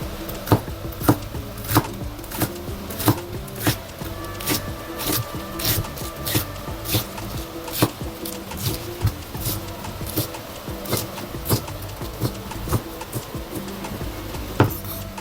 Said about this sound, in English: First of all, I'll be chopping my lettuce.